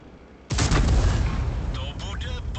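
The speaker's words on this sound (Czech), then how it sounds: "Střílí." Tank gun firing in World of Tanks, a single loud close blast with a rumbling decay and faint mechanical clatter after it.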